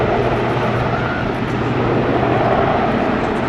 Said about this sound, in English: Very large helicopter indeed.